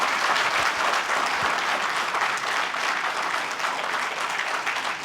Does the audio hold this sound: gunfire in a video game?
no